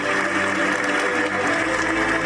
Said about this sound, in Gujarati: આજ તો તાળી પૂરી જ ન થવી જોઈએ આપણે